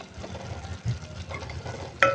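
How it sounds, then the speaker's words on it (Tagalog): Pork broth stirred in a cooking pot, with a soft continuous scraping and bubbling simmer and a brief sharp clink near the end, heard up close with no talking. "Haluin lang natin."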